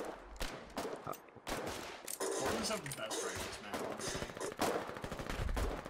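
Automatic weapon fire in the war video game Foxhole, bursts of rapid gunshots crackling over a dense battlefield din, loud and close with brief pauses between volleys.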